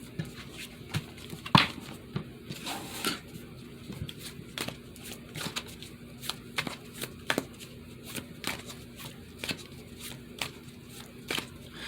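A tarot card deck being shuffled, with repeated crisp riffling and slapping card sounds spread across the clip, moderately close and fairly quiet, with no talking.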